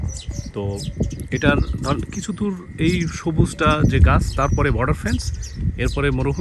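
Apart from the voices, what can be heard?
birds calling outdoors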